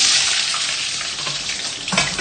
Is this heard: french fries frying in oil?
yes